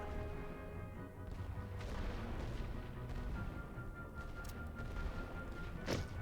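Artillery counter-battery fire in The Great War: Western Front strategy game, a dense continuous rumble of distant booms and bursts with a sharp nearer blast near the end, no talk.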